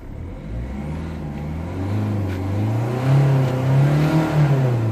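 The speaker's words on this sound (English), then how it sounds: "I'm going to rev the engine." A Volvo S40 1.6 diesel engine, in limp mode with fault code 2A30, revs up steadily from idle, its pitch climbing and holding higher, loud and close with no one talking.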